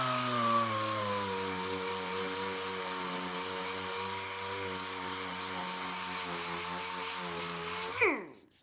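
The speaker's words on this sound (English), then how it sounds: "And sanding the tops off." An electric sander whines steadily as it grinds the tops off wooden screw plugs, a sustained close motor drone that cuts off abruptly near the end.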